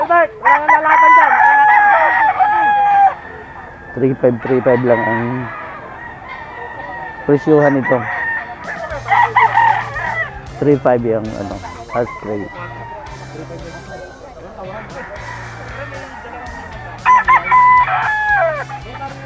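Fighting roosters crowing repeatedly at a gamefowl sale in a grotto, several loud nearby cock-a-doodle-doo calls rising over one another, with people talking throughout.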